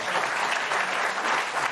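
Studio audience applause fills the whole stretch as a dense, steady wash of many hands clapping, loud and close, with no voices on top.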